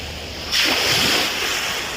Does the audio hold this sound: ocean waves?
yes